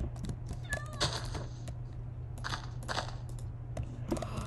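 Several short cat meows from a Minecraft cat, fairly clear and close, spread over a few seconds along with some game clicks and rustle, with no talking.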